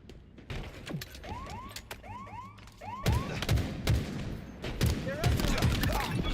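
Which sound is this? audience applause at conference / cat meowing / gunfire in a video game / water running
gunfire in a video game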